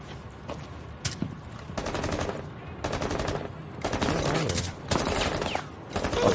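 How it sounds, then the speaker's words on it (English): Rapid automatic gunfire from the video game Rainbow Six Siege, arriving in several sharp, loud bursts separated by short gaps, with dense cracking shots packed close together. "unless we got people shooting at us"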